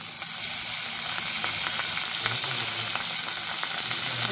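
Asafoetida and curry leaves sizzling in hot oil for rajma masala, a dense, even crackling hiss held close for the whole stretch, with faint scattered pops and a low hum underneath, no voices.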